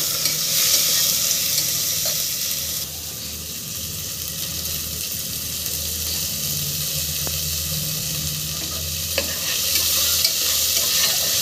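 Tomatoes with turmeric and coarse salt stirred in a hot pan, a steady frying sizzle with scraping spoon strokes and occasional sharp clinks against the metal, continuous and close with no talk.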